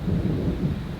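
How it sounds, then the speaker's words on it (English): Low, rolling thunder rumbles during a severe thunderstorm at an RV campground in Keystone near Mount Rushmore, a dense loud growl that stays fairly constant and carries no speech. "You can hear the thunder."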